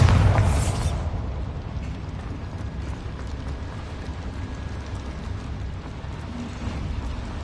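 A Bombarda blasting spell in the Hogwarts Legacy video game, set in a small mine, lands with a heavy boom at the start that quickly fades into a long, low rumbling tail of settling debris.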